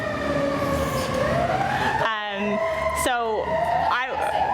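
A loud emergency vehicle siren wails in rising and falling sweeps close by, with sharp pitch drops near the end and voice-like sounds mixed in.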